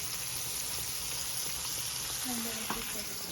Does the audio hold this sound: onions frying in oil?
yes